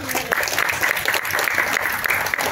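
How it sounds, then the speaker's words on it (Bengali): Clapping from the audience at a Bengali comedy stage drama performed for a Durga Puja committee, dense sustained applause from a crowd, loud and continuous with no voices standing out. "সেই পরিশ্রমকে মূল্য দেওয়ার জন্য একটা জোরে হাততালি দিয়েছে"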